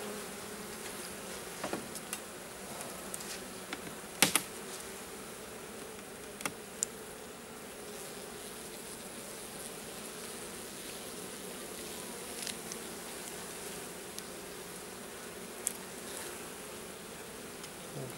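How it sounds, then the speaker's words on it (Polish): A dense, steady hum of many honeybees buzzing continuously at close range in the hive, with occasional faint clicks and knocks and no voices. "W gnieździe pszczoły dużo"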